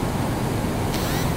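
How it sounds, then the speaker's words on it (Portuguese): Floodwater surging on a swollen river in the Brazilian sertão after heavy rain, heard as a steady, broadband rushing wash of waves, continuous and fairly loud with no distinct breaks. "Virou mar, as ondas, ó."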